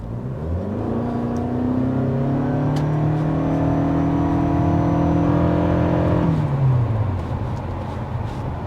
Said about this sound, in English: when you're accelerating hard, the engine is going to turn on. You will hear that